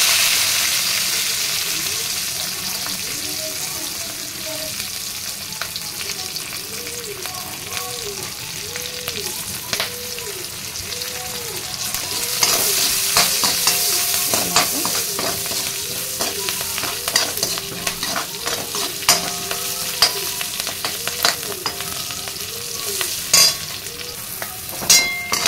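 Cumin seeds, curry leaves and fenugreek frying in hot oil give a steady crackling sizzle under repeated stirring and scraping in the pan, growing busier partway through, close up with no voices.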